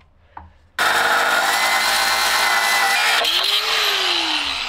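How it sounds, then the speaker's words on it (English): A power saw blade cutting aluminum on a truck build, starting after a brief knock with a loud sustained grinding whine, then pitch shifting as the blade slows and rises again. "That blade is not cutting that aluminum"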